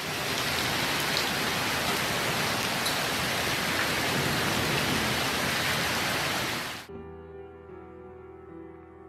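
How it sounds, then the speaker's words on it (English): A heavy hailstorm in Alicante, Spain pounds down as a loud, dense, rain-like roar of countless impacts. It stops abruptly near the end, leaving a quiet background. "A tremendous hailstorm caused many curious people to spend several minutes on their balconies observing the force of the hail."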